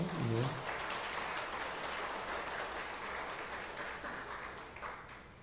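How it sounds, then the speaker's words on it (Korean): A Korean congregation at a Cheongpyeong training gathering breaks into sustained, dense applause right after a brief voice, holding steady and fairly distant before tapering slightly at the end. "박수 한번 보내주십시오"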